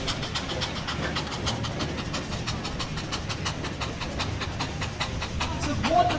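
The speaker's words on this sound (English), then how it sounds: "It's a wonderful sound though, a steam engine going at full shaft, like maximum power." A stationary steam engine at a steam and vintage rally works at full power on a brake load with low revs, giving a steady rhythmic chuffing beat of regular exhaust pulses, fairly close and continuous.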